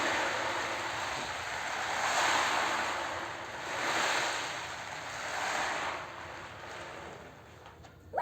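Sea waves rolling over a wide expanse of open ocean, a steady wash of surf swelling in three or four slow surges with wind noise throughout, no voices.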